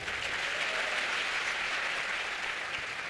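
Dense, steady applause from a large audience at a Bhagwat Katha religious gathering, continuous clapping at an even level throughout, with no talk over it.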